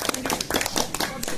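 A small group claps hands at a swimming-course first-aid training session, with a quick burst of irregular, close claps lasting just over a second, and a few faint voices mixed in.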